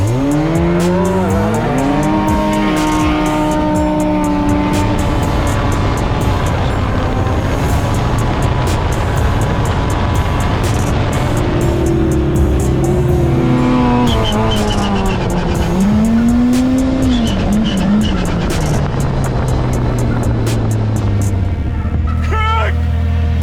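Kawasaki H2 supercharged motorcycle fitted with RPM Powersports exhaust parts, revving hard and loud through repeated rising gear pulls and sharp shifts, engine pitch climbing and dropping over road and wind noise.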